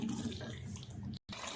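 Water pours steadily into a pan of Amritsari chicken curry masala, a continuous close splashing rush that cuts off abruptly near the end before resuming.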